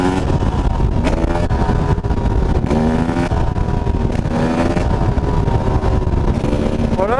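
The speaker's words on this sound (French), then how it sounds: "j'aime beaucoup faire des wheelings" A motorcycle engine revs hard and continuously while the rider pulls a wheelie, loud and close, with rising and falling pitch sweeps as the throttle opens and eases over several seconds.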